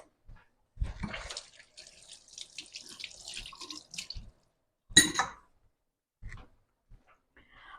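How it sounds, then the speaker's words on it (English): Hands washed under a running kitchen tap, close splashing water in an uneven burst with a sharp splash near the middle, then quiet drips and a faint dog whimper. "let me wash my hands"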